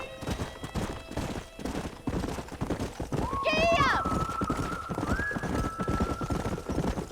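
A horse in the video game Red Dead Redemption gallops with rhythmic hoofbeats and lets out a loud whinny partway through, its hooves pounding on alongside spoken game dialogue.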